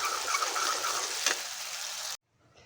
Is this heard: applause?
no